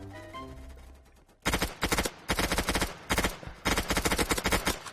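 Repeated bursts of gunfire from a Roblox City Life game, loud rapid volleys starting after a quiet opening with music, in several clustered strings of shots.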